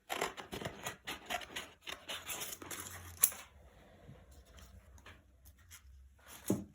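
Scissors snip through a painted paper leaf, a quick run of close crisp cuts followed by quieter rustling of paper and one last sharper snip, with no talk.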